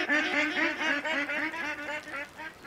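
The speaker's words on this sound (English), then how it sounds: "goddamn ducks" Ducks in the hunting video game Way of the Hunter quack in a rapid, repeated run of nasal calls, fairly close and fairly quiet, with no other sound over them.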